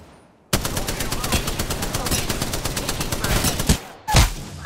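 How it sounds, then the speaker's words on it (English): Rapid automatic gunfire in Apex Legends hitting the player: a dense, loud burst of shots runs nonstop for about three seconds, pauses briefly, then one more heavy burst sounds. "I'm getting shot!"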